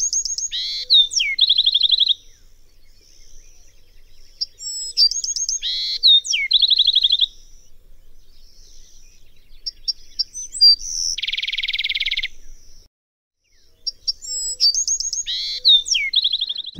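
Bewick's wren in Vancouver Island countryside repeats a bright, buzzy song phrase roughly every four to five seconds, with trills and a sustained buzzy note in between. The bird is close and clear against near silence.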